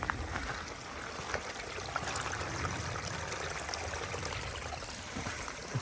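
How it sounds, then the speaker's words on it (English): Heavy rainwater rushing like a river down a rural property toward a drain, a continuous broad gushing wash with no talk, moderately loud and steady throughout. "There's an absolute river flowing down here."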